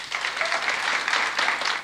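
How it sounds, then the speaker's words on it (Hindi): A crowd at a business motivational gathering breaks into dense, sustained clapping, loud and even for the short stretch without any voices. "सेफ शॉप के लिए तालियां हो जाएं दोस्तों"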